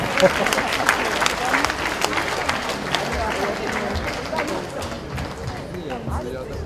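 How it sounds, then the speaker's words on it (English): A crowd's welcoming round of applause at the Shalom Jerusalem Korean Festival 2014 in New York, steady dense clapping that holds at an even level throughout, with cheering voices mixed in. "Let's give a welcoming round of applause"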